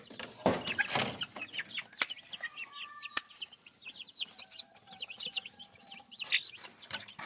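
Backyard chickens waiting for their feed cluck and chirp in soft, scattered calls at moderate distance over a quiet outdoor background, with a couple of louder bumps early on and no one talking.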